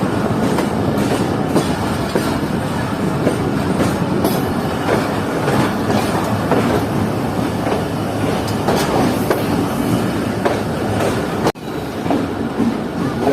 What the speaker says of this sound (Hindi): बिल्कुल मेरे सामने से भी एक ट्रेन आ रही है, यानी कि डाउन ट्रैक पर